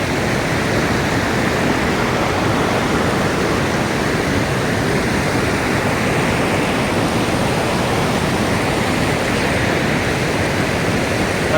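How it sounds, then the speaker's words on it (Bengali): Steady, loud roar of a waterfall on the Nile at Busko Falls in Jinja, Uganda, heard from close by amid the rushing water, a dense unbroken wash of sound with no voices. "অত্যন্ত সুন্দর, খুব সুন্দর এই ওয়াটারফলসটা।"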